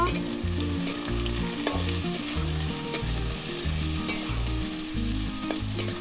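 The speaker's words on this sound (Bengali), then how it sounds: "এবার একটু নেড়ে দেবো" Bata fish and lati (taro stolons) frying in a pan, with a steady loud sizzle broken by repeated scraping stirs and a few sharp clinks of the spatula against the metal.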